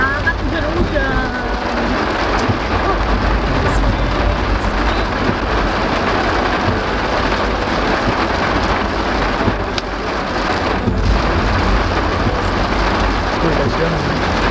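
Steady heavy rain pours onto surfaces with a dense, unbroken hiss and patter, low rumbles of thunder rolling underneath, while people talk faintly in the background.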